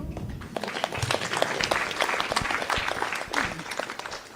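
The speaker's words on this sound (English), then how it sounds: "I think you should really clap for that" Many people clap together through a Zoom meeting's audio after about 108 people turned up, a thin, fairly faint burst of dense applause that swells and dips for several seconds with no one talking.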